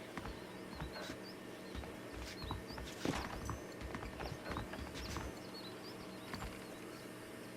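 Horse hooves clip-clop at a steady walking pace in the Western video game Red Dead Redemption, fairly faint, with scattered bird calls over quiet outdoor ambience.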